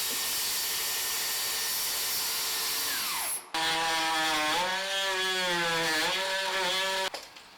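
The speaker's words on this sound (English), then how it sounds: "we'll come through and cut the joists right on either side of that" A power saw cuts through wooden floor joists. Its loud motor whine wavers and dips in pitch under load, then stops abruptly, with a brief pause before a second cutting pass.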